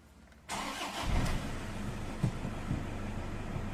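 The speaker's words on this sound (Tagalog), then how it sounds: "Switch off ko na itong makina para magkaalaman kung aandar pa ito." A Toyota Hilux pickup with an oil leak and low power starts up after being switched off: a short cranking burst, then the engine catches and settles into a steady idle with a few small bumps, close and alone.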